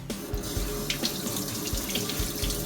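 Tap water runs over a tilefish (amadai) in a kitchen sink, a steady splashing stream with small knocks and shifts as the fish is rinsed.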